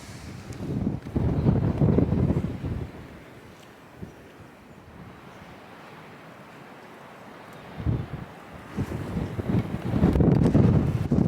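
Strong gusty wind buffets the microphone on an exposed hilltop at Caer Caradoc near Church Stretton, Shropshire, roaring loud in two long surges with a calmer stretch between.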